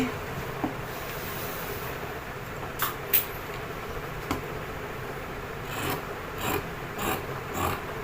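Scissors cut through shirt fabric along an A-line shape with a sewing margin, giving soft rasping snips over a steady hiss, with a few clearer cuts near the end.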